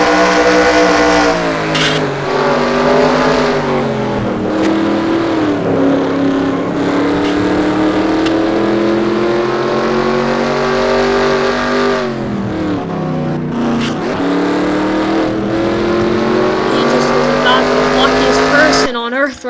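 Racing truck engine heard onboard in a Truck Series race with William Duncan's truck, a loud, steady harmonic drone that dips briefly twice as the revs drop, with commentators talking over it throughout.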